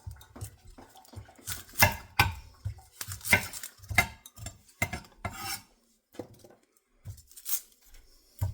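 A knife chops an onion on a board in a home kitchen, a loose series of close, sharp taps and knocks in uneven bursts with brief pauses between.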